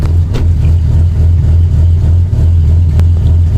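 A Lexus SC300 with a manual W58 gearbox, set up as a drift build, idles while warming up. Its engine gives a loud, steady low hum with small rises in revs, close by, with no talking.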